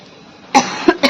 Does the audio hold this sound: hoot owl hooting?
no